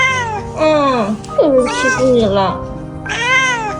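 A frightened stray cat that had been bullied and hid in a tree meows repeatedly and loudly up close, drawn-out plaintive cries in a series, while someone talks soothingly in between.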